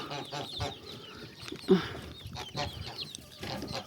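Chicks and a turkey cluck softly inside a coop, with scattered chirps and one brief louder squawk against a quiet background and faint murmuring.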